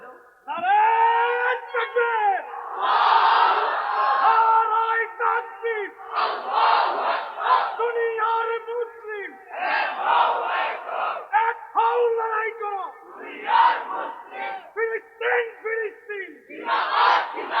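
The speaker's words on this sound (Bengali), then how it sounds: "মাহফিলে মাঝখান থেকে একজন দাঁড়াও তো, জোরে তাকবীর দাও" A large crowd at a religious waz gathering loudly chanting takbir in unison, repeated roaring call-and-response bursts with short gaps between them.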